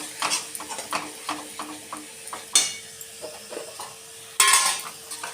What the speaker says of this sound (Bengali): একটু রসুন বাটা 1 চামচের একটু বেশি, দিয়ে কষাবো।